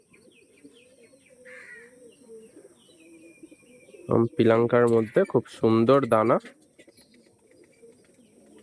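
Andhra pigeons coo in a low, steady background murmur, soon covered by someone talking loudly close by, with the cooing continuing faintly underneath.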